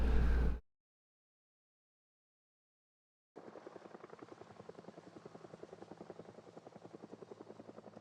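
A helicopter in the zombie-survival game Project Zomboid: after a brief loud burst and a few seconds of silence, a steady, rhythmic rotor chop sets in and holds at moderate loudness to the end.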